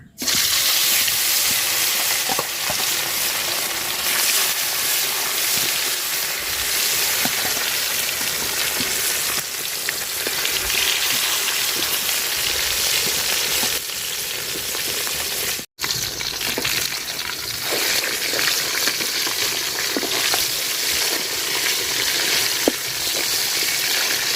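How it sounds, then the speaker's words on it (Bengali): Tilapia coated in turmeric and salt frying in hot oil in a pan, a steady loud crackling hiss running throughout with a brief break partway, no talk. "আমার ফাতিলের তেলও গরম হয়ে গেছে মাছ দিয়ে দিলাম"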